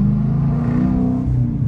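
A straight-piped Dodge Challenger RT engine rumbles loud and close, a deep throaty idle-to-rev drone that holds steady without pause.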